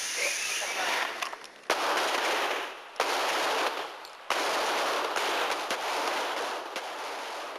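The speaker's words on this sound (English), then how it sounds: "At the Police Academy gun range, partners Charles Rodriguez and Shannon Reece take their frustration out on a routine qualifying test" Gunfire rings out at a police academy gun range during a qualifying test, loud bursts of rapid shots broken by a few brief pauses, with harsh echoing blasts throughout.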